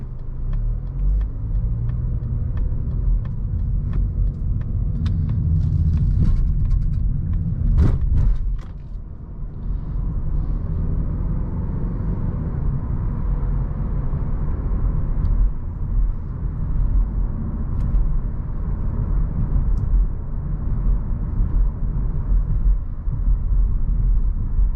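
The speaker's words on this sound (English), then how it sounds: "I'll put it in sport mode for the last little bit of our drive" Interior cabin sound of a 2020 Mazda 3 Premium driven in sport mode: a steady low engine and road rumble with tire noise, a brief mechanical clunk around the middle, continuous and fairly loud with no talking.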